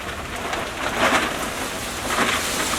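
Steady rain patters on an uncovered race engine nearby, a dense even hiss with a couple of slightly heavier bursts, no voices.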